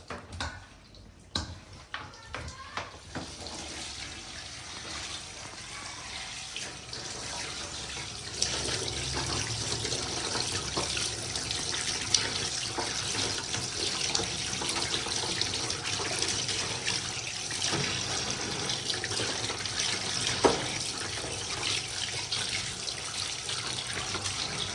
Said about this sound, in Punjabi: ਮੈਂ ਹਮੇਸ਼ਾ ਸਿਰਕੇ ਦੇ ਨਾਲ ਗੋਸ਼ਤ ਧੋਂਦੀ ਆ, ਜਾਂ ਨਮਕ ਨਾਲ ਜਾਂ ਸਿਰਕੇ ਨਾਲ